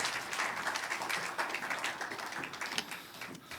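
Applause rises from a church congregation at a Sunday worship service, a dense wash of many hands clapping loudly and continuously for several seconds, with no talking over it.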